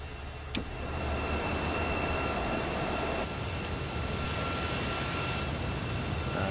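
A Harrier jump jet in Microsoft Flight Simulator roars on the ground with its canopy open, a loud steady engine whine and rush with high tonal lines that swells after a click and holds on without a break.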